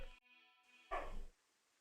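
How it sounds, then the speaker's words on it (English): Dogs bark at a distance, a brief sharp bark burst rising out of a quiet room tone. "Oh boy, dogs are gonna start barking."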